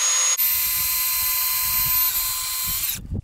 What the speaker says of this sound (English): So you wanna pre-drill a hole.